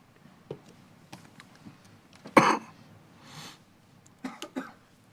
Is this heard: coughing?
yes